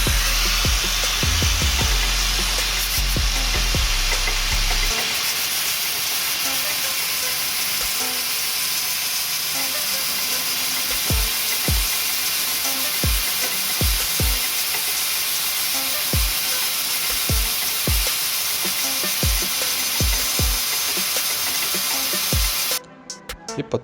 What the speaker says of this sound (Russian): Дальше берем болгарку с наждачным кругом и аккуратно снимаем кромку сначала с одной стороны